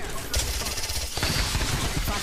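Rapid bursts of video game gunfire in a team shooter match, dense and continuous over a loud, busy mix.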